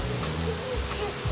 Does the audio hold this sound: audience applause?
no